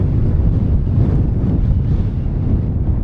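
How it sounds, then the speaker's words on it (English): Gale-force wind buffets the microphone at a wild camp in the Lake District, a loud, constant roaring rush with no let-up. "I'm leaning into the wind."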